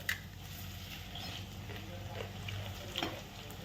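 Potato fritters crackle steadily in hot oil over low heat as they are flipped, a soft continuous bubbling with a few light scraping knocks near the end.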